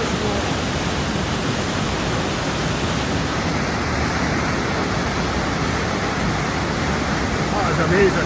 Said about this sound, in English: If you listen closely to the thunderous water